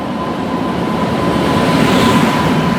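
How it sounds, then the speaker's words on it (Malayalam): A train pulls into a railway station platform on the way to Alappuzha, a loud steady rumble of wheels and carriages with a faint high tone running through, close and continuous. "ട്രെയിൻ വന്നു"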